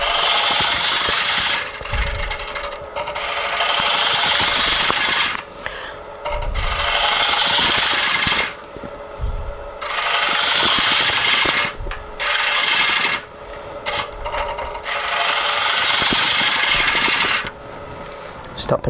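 A lathe tool cutting spinning wood during woodturning gives loud, close, rasping scrapes in long sustained passes, broken by short pauses and repeated several times.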